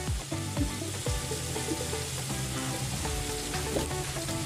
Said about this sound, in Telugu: ఇప్పుడు కొంచెం అల్లం వెల్లుల్లి పేస్ట్ వేసుకుందాం.